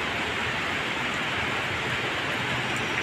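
Heavy rain pours down in a dense, unbroken hiss, loud and close, with no pauses or other sounds.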